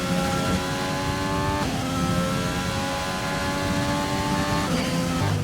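A Formula 1 car in the F1 2020 video game races on track, a loud close engine whine that rises through the gears with sudden drops at each shift change.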